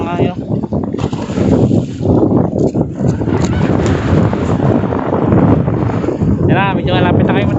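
Strong wind buffets the microphone over the roar of large waves and water around a fishing boat at sea, while a person speaks in Filipino over the din.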